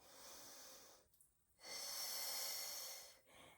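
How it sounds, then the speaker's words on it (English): Steady breathing during a seated Pilates exercise: a long audible breath, a short pause, then a longer exhale of similar strength, with a brief final breath, close up and with no talk. "take a breath."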